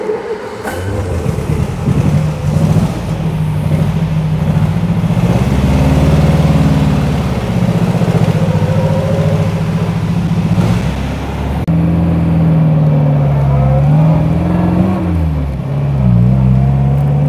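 A 1956 MG A Mk1 classic car drives on a test run, its engine loud and close with a steady mid-pitched drone that rises and falls as it revs through the gears.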